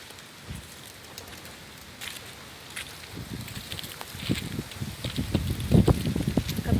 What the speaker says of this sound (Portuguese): O vento tá puxando com muita força.